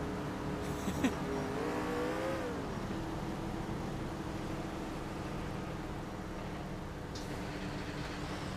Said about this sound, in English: So I guess he's responding in the fire truck to the hospital.